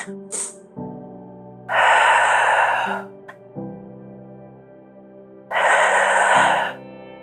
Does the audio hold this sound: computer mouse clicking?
no